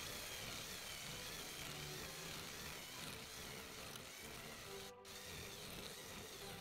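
Drill boring a hole through a thick, hard plastic basket, a faint continuous grinding and whirring with a brief pause near the end.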